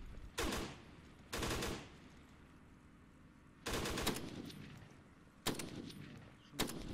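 Gunfire in an Arma 3 firefight: several sharp, loud bursts of shots spaced irregularly, each ringing out briefly over a low background rumble, with no talk.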